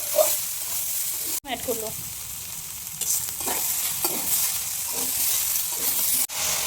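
Potatoes and ground cumin, fennel and ginger paste fry in a pan, with a steady sizzle broken by scraping stirs and a few sharp clatters, while a voice talks briefly over it.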